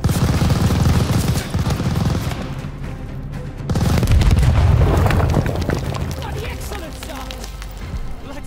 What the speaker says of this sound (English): We need a grenade on the MG!